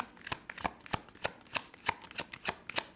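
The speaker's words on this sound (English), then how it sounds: "They need to be shuffled." Tarot cards being shuffled close by, a steady series of crisp riffling and slapping bursts, fairly quiet, no voices.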